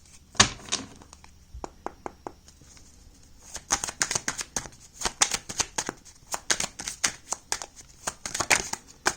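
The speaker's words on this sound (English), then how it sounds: "And now I'm gonna pull out some clarifying cards." Tarot cards are shuffled and drawn from a deck: a brief riffle, then a long run of quick, crisp card slaps and flicks that cluster and repeat close to the mic, with no talking.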